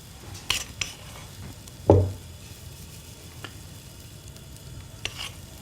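Oatmeal and treacle pancake batter dropped into a hot pan or griddle, giving a soft steady sizzle with a clear clank of utensil on pan near the start and a few light taps, no talking.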